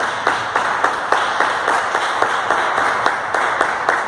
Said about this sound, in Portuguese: daquela linda salva de palmas ao nosso Senhor Jesus Cristo